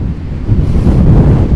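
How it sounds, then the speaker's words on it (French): Strong wind roars across an outdoor microphone in a storm, a loud, steady low rumble with gusting surges and no voices. "Et le vent est de droite à gauche"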